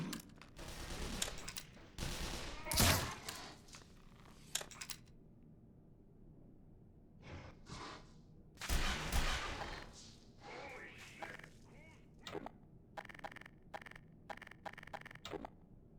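Bursts of gunfire in the PC game Black Mesa crackle in clusters, with loud volleys early and midway and sharper scattered shots toward the end, a voice occasionally underneath.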